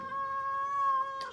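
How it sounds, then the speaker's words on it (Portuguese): A cat gives one long, steady, drawn-out meow that lasts the whole moment. It is loud and close, with a short sharper catch at the very end. Nobody speaks over it. "só quer comer carne esses gatos aqui"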